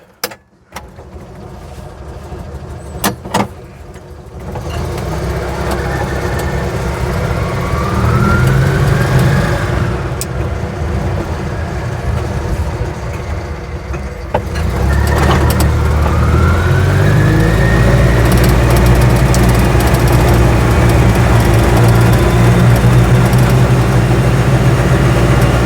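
An Invacar's small engine runs throughout a ride, a loud, steady drone that rises in pitch as it accelerates, with a few sharp clicks at the start and a louder, rougher stretch after a gear change.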